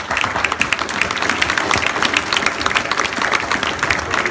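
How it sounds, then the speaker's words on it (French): An audience at a town carnival applauds, dense steady clapping from many hands filling the space evenly and fairly loud throughout, with no voices standing out. "Alors, s'il vous plaît, applaudissez les deux fois."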